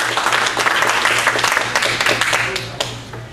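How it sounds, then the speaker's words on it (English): Audience members at a community meeting on criminal justice give a round of applause, a loud, close patter of many hands clapping steadily for a few seconds, with faint voices beneath. "a nice round of applause"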